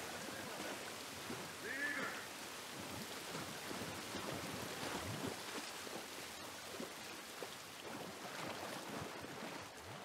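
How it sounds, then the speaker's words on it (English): Steady rain falls in the video game The Last of Us Part 1, a dense continuous hiss with scattered patter and low rumbles, fairly loud throughout with no talk. "at least we're out of the rain."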